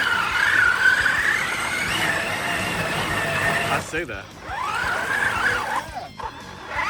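A 6s Traxxas TRX4 RC truck churns through thick mud, its motor whining and tires spinning in a loud, continuous roar that briefly dips and surges again, with someone talking close by.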